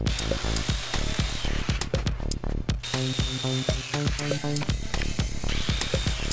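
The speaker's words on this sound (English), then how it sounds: "I'm going to cut them out with the jigsaw" A jigsaw cutting corners out of reused 2x4 wood, its blade buzzing in rapid rough strokes with rising and falling pitch as it bites and pauses, loud and close with no talking.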